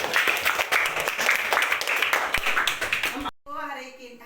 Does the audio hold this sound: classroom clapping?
yes